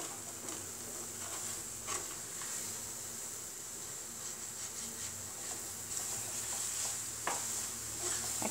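Thickening green pea halwa, cooked with ghee, being stirred in a pan as stuck bits are scraped off the sides. Occasional scraping strokes sit over a steady, close sizzling hiss, with no talking.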